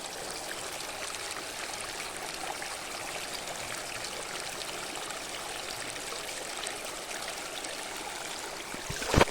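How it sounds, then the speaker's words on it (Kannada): Water gushing nonstop from a farm pump set pipe in a village, a dense, even rushing stream heard close up with no pauses, ending in a brief knock, no voices. "ನೀರು ಉಗ್ತಾ ಇರುತ್ತೆ ಅವ್ರ ಪಂಪ್ ಸೆಟ್ಟದು ಯಾವಾಗಲೂ 24/7"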